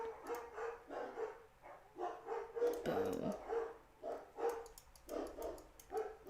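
A dog barks over and over in a steady rhythm at moderate loudness, with a brief spoken word partway through.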